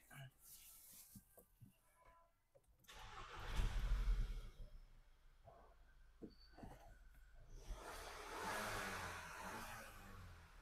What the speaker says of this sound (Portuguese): Olha aí o carro funcionando sem a chave.